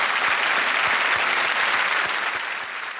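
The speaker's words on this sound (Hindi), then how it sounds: "एक बार फिर तालियों के साथ" Sustained, dense applause from a studio audience on a Hindi quiz-show set, steady and loud for the full three seconds with no speech.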